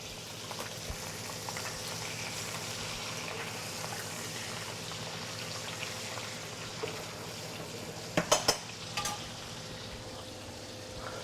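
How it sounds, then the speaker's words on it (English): Brill fillet frying in bubbling butter in a pan, a steady close hiss and crackle with a brief cluster of sharper pops near the end. "The butter's just boiling away."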